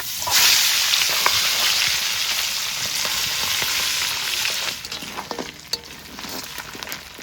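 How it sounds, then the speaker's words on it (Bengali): A fish head frying in hot mustard oil, with a loud, steady sizzle that stays up close for several seconds, then eases slightly while a few sharp pops and crackles cut through near the end. "মাছের মাথাটা ভেজে নিই সর্ষের তেল"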